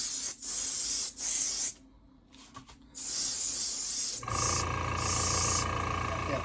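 Aerosol paint hisses onto a painted statue figure of the Hunchback of Notre Dame in several close bursts separated by short gaps, then a steadier buzzing hiss follows.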